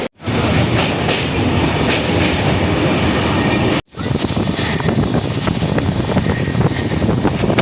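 A train rolls into Asansol junction with a loud, dense rumble and rattle of railcars and wind buffeting the microphone, briefly cutting out midway before the steady roar resumes.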